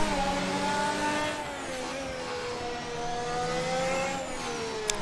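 Formula 1 race car lapping Zandvoort during the Dutch Grand Prix in the F1 2021 video game, a high engine whine rising and falling through gear shifts, loud and continuous with no voices.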